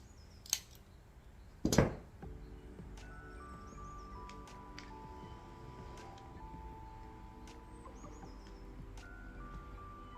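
A mosaic tile being cut in half with a tile nipper, a sharp single snap preceded by a lighter click, then quiet room tone with faint background music.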